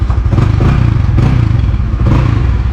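A Honda Winner X 150 motorcycle idles and runs close by, its muffler giving a loud, steady, throaty exhaust rumble with slight rises in pitch.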